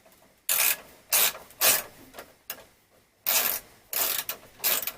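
A ratchet wrench fitted with an extension and a 10mm socket clicks through a snowblower repair in rapid bursts, several sharp loud runs of ratcheting separated by short quiet gaps.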